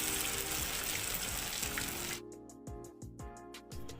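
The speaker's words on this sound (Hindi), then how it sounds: "ये देखिए कितनी अच्छी तरह से चापें फ्राई हो रही हैं।" Mutton chops fry in hot oil over a medium-low flame, four or five at a time, with a steady loud sizzle that suddenly drops away into quieter bubbling and a few scattered spatters and clinks.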